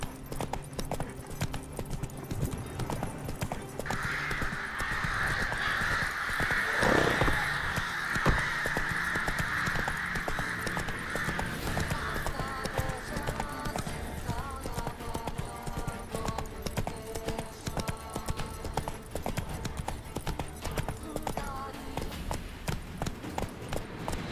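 Roach, a horse in the Witcher 3 video game, galloping with a steady run of rhythmic hoofbeats over a busy game soundscape at moderate volume.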